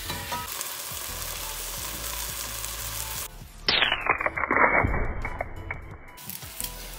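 A second batch of beef for an Indonesian dish browns in a frying pan with a steady sizzle that surges louder and crackles midway before settling back to a constant fry.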